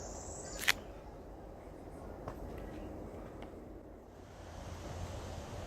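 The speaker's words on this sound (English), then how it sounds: "This is the creek stream coming out of the spring" A creek stream flows out of a spring at Ponce De Leon Springs State Park as a steady, close wash of rushing water, with a brief sharp click near the start and no talking.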